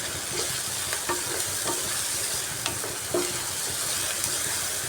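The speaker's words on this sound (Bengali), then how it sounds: "এইভাবে পেঁয়াজটাকে একটু লাল করে ভেজে নিচ্ছি" Onions sizzle steadily in hot oil for a jackfruit curry, turning reddish, with soft scraping stir strokes every second or so over a constant close frying hiss.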